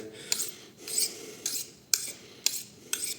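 A knife blade is drawn across an Apex sharpening stone in six rhythmic, evenly spaced rasping strokes, close and clear, with no talking.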